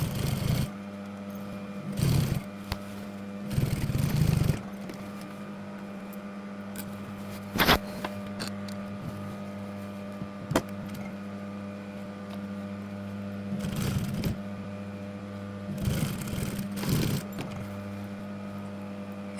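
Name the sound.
sewing machine sewing a waistband onto jeans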